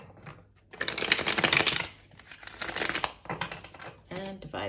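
A tarot card deck being shuffled close by, papery riffling and crinkling in a few short bursts separated by brief pauses.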